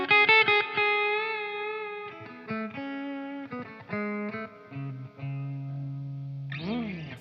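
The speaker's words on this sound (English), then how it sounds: "This is what the amps sound like clean." A clean Stratocaster electric guitar plays through two blackface-style amps, a Blankenship Twinplex and a Bloomfield Drive in stereo, with sustained chords and single notes ringing with a chorus-like shimmer, ending in a quick wavering bend.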